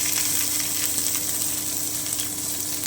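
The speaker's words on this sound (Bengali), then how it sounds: "আমি একটু ভেজে নিচ্ছি।" Chopped onion sizzles steadily in hot oil in a pan, a close, continuous frying hiss with faint stirring and no talk.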